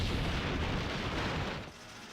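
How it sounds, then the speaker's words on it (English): A grenade explosion in the war strategy video game Valkyria Chronicles, a loud, dense burst of noise that rumbles for about a second and a half before falling away. "Have a grenade for my friends."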